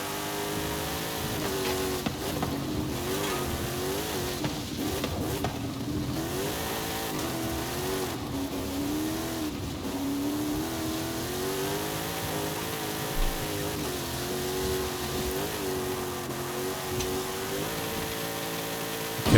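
A powerful off-road car in the racing game Forza Horizon 5 drives continuously, its mid-pitched engine revving and rising and falling in pitch with throttle through corners, loud and steady with no talking.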